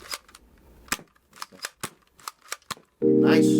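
Nerf toy blaster test-fired after a home repair attempt, sharp snapping clicks in an irregular series, close and fairly loud, ending in a sudden louder mechanical whir.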